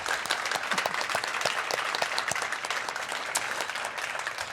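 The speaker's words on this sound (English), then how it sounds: "Please, a round of applause for our panelists and moderator." Audience at a panel event on the future of transportation applauds the panelists and moderator, dense steady clapping from a room full of people throughout, fairly close and even in loudness.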